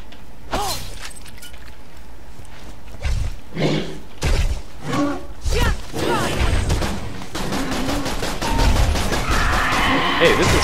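Rapid bursts of gunfire from a semi-automatic, burst-fire gun in Borderlands The Pre-Sequel, dense crackling volleys mixed with shattering and mechanical clatter, loud and continuous with a voice speaking over parts of it.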